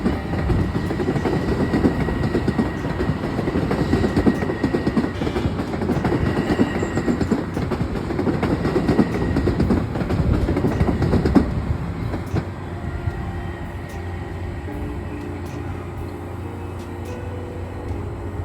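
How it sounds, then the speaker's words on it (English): An electric multiple-unit commuter train on the Harlem Line rolls past near a rail yard with a loud, rhythmic clickety-clack of wheels over track joints, then fades to a quieter hum as it moves away. "The loudest part is them clickety-clacking over the tracks."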